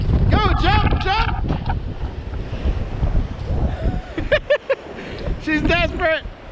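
Strong wind gusting during a bomb cyclone blizzard, a loud steady roar buffeting the microphone, with excited voices talking and calling out over it throughout.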